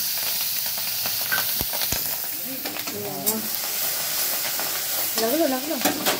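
Chopped dried red chillies fry in oil heated for a raw mango pickle, giving a continuous close sizzle with scraping stirs and a couple of sharp clicks, while brief wavering vocal sounds come and go.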